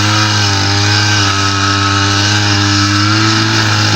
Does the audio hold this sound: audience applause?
no